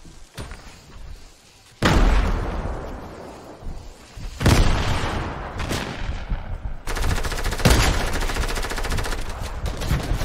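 Heavy pump shotgun blasts boom one after another with pauses between, each followed by a ringing tail, loud and close in Fortnite.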